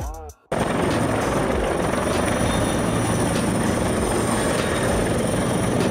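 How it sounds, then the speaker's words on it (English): A firefighting helicopter roars close and loud, its rotor and engine noise dense and constant after a brief cut at the start. "Firefighting helicopter."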